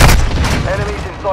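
Heavy blast rumble from an RPG rocket explosion in a military shooter game, loud and close at the start and fading into a lingering low roar with battle noise and shouted voices underneath.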